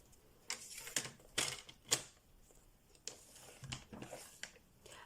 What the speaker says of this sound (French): je vais venir marquer des plis